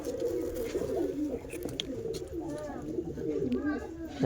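Several pigeons coo nearby in low, rolling, repeated calls that overlap continuously, with a murmur of human voice in the background.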